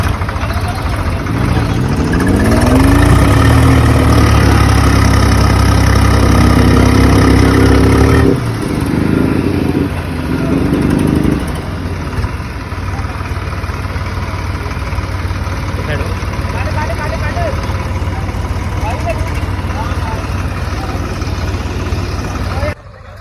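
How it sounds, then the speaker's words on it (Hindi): Tractor diesel engines labour and rev while two tractors haul a heavy old Mahindra Thar stuck in swampy mud; loud, close engine roar rising then settling into a steady idle-like drone, with people talking over it. "ट्रैक्टर लगे खींचने थार को।"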